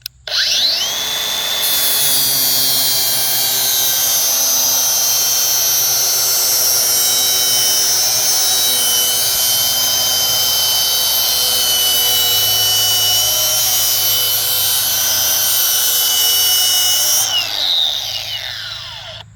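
Electric lawn mower blade sharpener grinding a nicked mower blade in one continuous pass, a loud, steady high-pitched whine that spins up, holds for most of the stretch and then winds down, with no voices.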